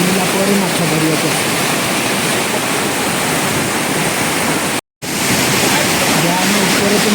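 Water pours over a full dam with a loud, unbroken roar that stays level throughout and is interrupted only by a brief dropout.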